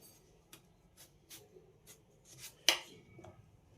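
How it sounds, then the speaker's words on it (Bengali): A knife cuts a peeled raw potato into long strips, a series of soft crisp chops on a board at an irregular pace, close and quiet, with one sharper knock near the end and no talking. "যেমনভাবে আলু ভাজা করে ঠিক তেমনভাবে লম্বা লম্বা করে কেটে নেব।"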